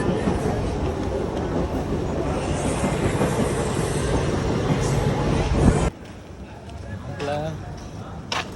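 Rumbling train ride in Mumbai heading toward the Gateway of India, with loud clattering and rolling noise plus voices. The din drops off abruptly partway through, leaving quieter ambience with some voices.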